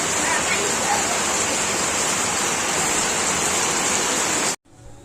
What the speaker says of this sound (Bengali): দেখো কি বাজে, চারিদিকে বৃষ্টি পড়ছে, কি বাজে অবস্থা।